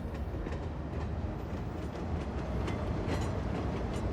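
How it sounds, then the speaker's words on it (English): Double-decker trains in Cities Skylines 2 rumble past steadily and loudly, with a continuous rolling roar and faint rhythmic clicks of wheels over rail joints, no talk. "I've just realized they're double-decker trains"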